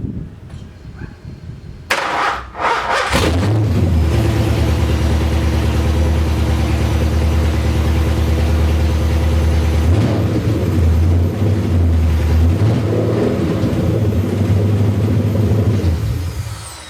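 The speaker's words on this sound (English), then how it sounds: "a video of the car actually idling under its own power" An LS-swapped Nissan 240SX is started up after a few short clunks and settles into a loud, steady low rumbling idle, running close up and uninterrupted with slight wavers in pitch.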